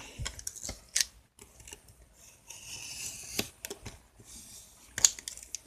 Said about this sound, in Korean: 나무 젓가락 있죠? 이거 뜯어가지고 어, 칼집을 내주세요.